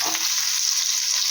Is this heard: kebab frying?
yes